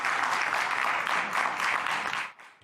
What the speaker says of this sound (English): Applause on the House floor as representatives voted to pass the Respect for Marriage Act